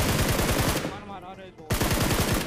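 Automatic gunfire in the mobile battle royale game BGMI comes in rapid rattling bursts, loud and close, with a brief lull partway through before another sustained burst.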